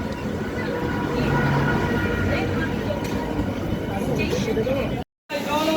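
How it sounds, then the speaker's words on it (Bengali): A crowded Krishnanagar–Sealdah local train standing at platform four of Naihati Junction, a dense steady roar of platform bustle and rail noise with passengers' voices throughout, and a brief cutout near the end. "আমাদের ট্রেন কিন্তু এই মুহূর্তে দাঁড়িয়েছে নৈহাটি জংশনের প্ল্যাটফর্ম নাম্বার চারে"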